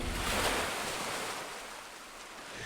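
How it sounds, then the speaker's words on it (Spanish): A wave slaps against the hull of a small boat on open water, a loud broad wash of surf and spray that peaks early and then eases into a steady churning hiss with wind over it. "una ola golpeó violentamente el casco."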